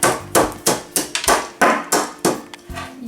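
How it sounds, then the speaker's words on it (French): A hammer strikes a potted houseplant being repotted, about nine sharp, close knocks in an uneven rhythm, each with a short ringing decay, with no talking. "Premier coup de marteau et tout s'est désolidarisé."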